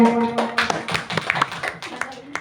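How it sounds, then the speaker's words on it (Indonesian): A small group of colleagues clapping in applause at a school workshop, loose uneven claps in short bursts mixed with soft room noise and some faint voices. "Ya, kasih tepuk tangan untuk rekan kita semua."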